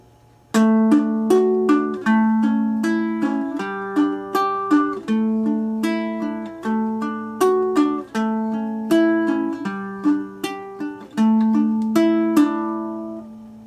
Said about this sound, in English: I could teach you an easy peasy finger-picking pattern